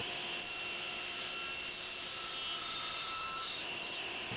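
A hand saw cuts a tenon in framing lumber guided by a jig, giving a steady, continuous rasping drone that stays loud and close throughout, with no voices.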